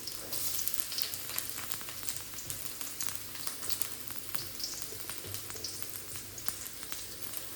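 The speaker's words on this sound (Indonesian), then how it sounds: "Panas ya. Kemudian kita masukkan bawang putih." Garlic frying in hot oil for a tumis of long beans with tofu and tempeh, giving a dense, even crackling sizzle, soft and steady from start to end with no talking.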